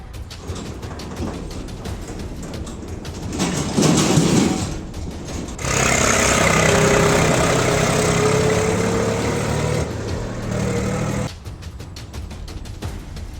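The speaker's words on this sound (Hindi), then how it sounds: "जेसीबी लगाकर नदी के बीचों बीच निकाला जा रहा है बालू" A JCB excavator digs sand from the middle of the Damodar River in Bokaro, giving a loud mechanical engine drone with creaking and hydraulic whine, rising in a sustained burst midway and dropping back to a rattling idle.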